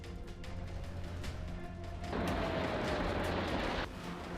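Missiles fire and explode amid Iran–US military tension: a low rumbling bed swells into a loud, roaring blast midway that holds for about two seconds before dropping back.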